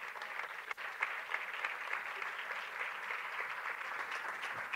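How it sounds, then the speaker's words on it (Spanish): Sustained applause from an audience at a women's basketball league season presentation in Gran Canaria, a steady, even wash of clapping heard from a distance without speech. "Un fuerte aplauso."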